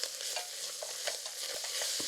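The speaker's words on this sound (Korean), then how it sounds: "고기 넣고 또 볶아." Beef and seaweed stir-fried in a pot for seaweed soup, with a steady sizzle and repeated scraping strokes of a utensil against the pot bottom, close and without talk.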